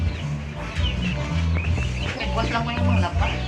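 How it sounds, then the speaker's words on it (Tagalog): Chickens cluck and murmur close by on a rural property, a busy layered stream of clucking calls with other noise mixed in and occasional voice-like sounds among them. "Ang itong mga chicken, mga manok."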